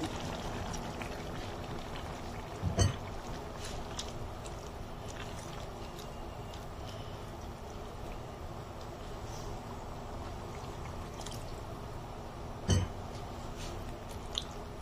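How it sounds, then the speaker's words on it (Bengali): A little broth is poured into a simmering bottle gourd curry, giving a soft, faint liquid bubbling and sloshing, with two brief louder knocks from the pot. "লাউ তরকারিতে খুব একটা ঝোলের প্রয়োজন হয় না, তো আমি খুব সামান্য একটু ঝোল অ্যাড করে দিচ্ছি।"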